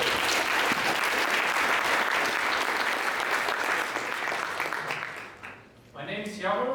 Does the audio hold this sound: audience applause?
yes